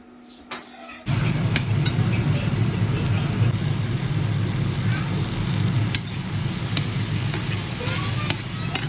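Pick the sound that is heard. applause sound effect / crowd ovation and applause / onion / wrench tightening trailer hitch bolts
onion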